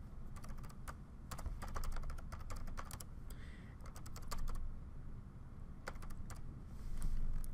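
Steady clicking of a computer keyboard as someone types into a web registration form, quick irregular keystrokes in bursts with short pauses, faint and close over a soft background hiss.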